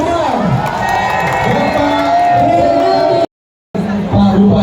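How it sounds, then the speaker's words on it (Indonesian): Large crowd cheering and shouting at an outdoor ceremony in a town square in Subang, Indonesia, welcoming the regent during a teachers' day celebration. The dense, loud roar continues steadily, breaks off for a brief silence, then resumes with voices mixed in. "mari kita sambut dengan tepuk tangan paling meriah"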